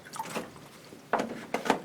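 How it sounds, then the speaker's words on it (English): Water splashes into a mixing container during an orchid-growing experiment, in three short, close bursts of pouring and dripping. "I'm going to add a little bit more water"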